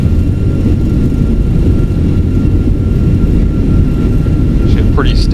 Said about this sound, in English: And reversers are out.